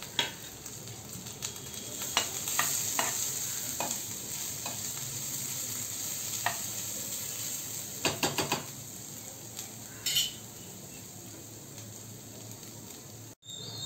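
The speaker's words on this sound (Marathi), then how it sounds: "ओला नारळ छान परतून झाला आहे." Grated fresh coconut sautéing in a pan for a Goan-style mixed vegetable dish, a steady soft sizzle with occasional scrapes and stirring clicks from a utensil, close and moderately quiet, no talking.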